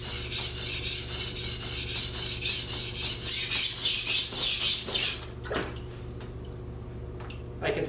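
A knife edge near the tip being sharpened on a stone to raise a burr: rhythmic, close rasping strokes, about a dozen, that stop partway, leaving a quieter background with a few light taps.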